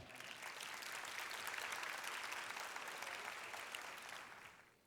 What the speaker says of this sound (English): A round of applause for Marlon